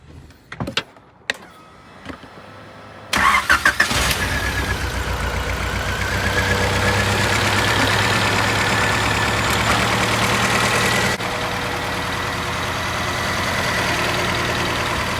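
A Honda Civic with a B-series engine swap and a leaking exhaust manifold: a few clicks and cranking, then the engine catches and settles into a loud, steady idle with a slight shift partway through.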